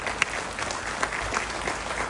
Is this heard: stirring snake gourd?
no